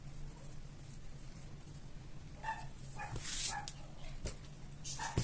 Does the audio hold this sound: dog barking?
yes